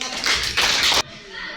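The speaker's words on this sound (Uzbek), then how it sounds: "bitta qarsak" A short burst of children clapping together in a classroom, loud and close, ending abruptly after about a second.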